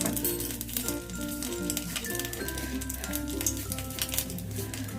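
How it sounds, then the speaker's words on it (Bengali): Nigella seeds (kalo jeere) spluttering in hot oil in a kadai for a Bengali tangra fish curry: a light, crackling patter that runs throughout, with steady tonal background sounds layered underneath. "অল্প একটু কালো দিলে ফোড়ন দিলাম"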